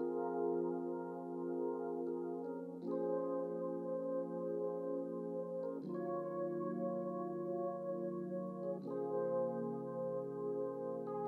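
A Rhodes electric piano treated with effects and layered with an atmospheric pad plays slow sustained chords that change every few seconds, smooth and steady at a soft, even level, with no talking.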